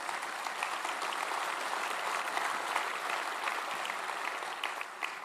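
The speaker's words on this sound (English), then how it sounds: "give them a round of applause" Steady applause from an audience at a security strategy panel session, dense continuous clapping filling the whole stretch at moderate level with no pauses.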